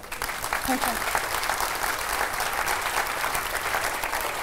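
Steady audience applause at a philosophy debate, a dense wash of clapping held at even strength for several seconds, with faint voices mixed in.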